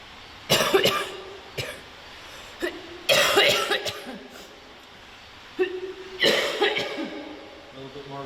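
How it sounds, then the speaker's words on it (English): Several harsh coughs burst out in clusters, some in quick pairs, with short quiet gaps between, fairly close and loud. "got that damn cough back"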